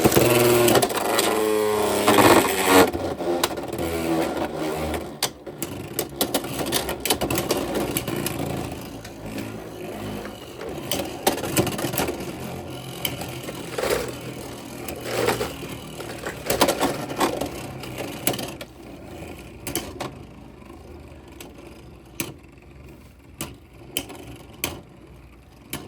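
Beyblade X spinning tops launched into a stadium and clashing, with dense, loud scraping and clattering bursts at the start, then repeated sharp impacts and rattling spin-down over about twenty-five seconds.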